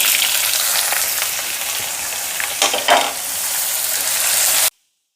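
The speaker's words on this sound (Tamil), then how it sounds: "கொஞ்சம் கருவேப்பிலை, ஒரு 2 வத்தல், அந்த உருளைக்கிழங்கு அதோட சேர்த்து" Potato pieces fry in hot oil with cumin, curry leaves and dried red chillies, making a loud, dense crackling sizzle with a few stirring scrapes. It runs continuously, then cuts off abruptly near the end.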